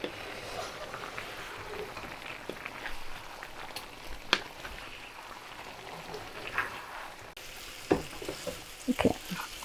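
Three medium sliced onions fry in a pan while being stirred: a steady, faint sizzle runs throughout, broken by occasional sharp scrapes and clicks from the spoon.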